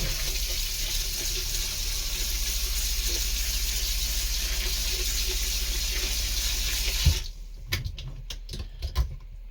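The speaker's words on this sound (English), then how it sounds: "Come over here to my sink. And I've discovered I'm going to fill it up just enough to where it's just covering it a little bit." A tap runs into a sink inside a converted bus, a loud steady rushing pour that stops abruptly near the end and gives way to scattered drips and small clunks.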